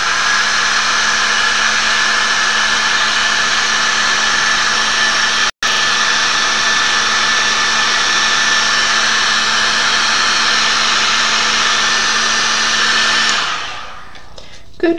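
A heat tool blows a steady, loud whirring hiss while warming chipboard embellishments for a mixed-media Christmas card. It drops out for an instant midway, resumes, then winds down and shuts off near the end.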